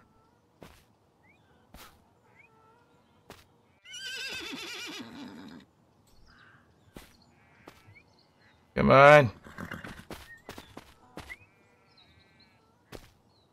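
Horse neighing in the video game INCUR Survival, a loud whinny standing out near the middle with another fainter whinny earlier, alongside clicks and someone speaking briefly.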